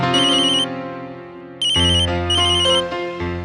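A phone ringtone plays loud and close in a Hindi TV serial scene, a bright repeating electronic melody with a short gap before it resumes, with no talk over it.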